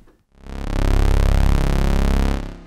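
An Arp Odyssey analog synth's VCO1 oscillator, transposed down two octaves, plays a loud, buzzy low tone for about two seconds, stepping slightly in pitch, with a sweeping overtone pattern before it cuts off.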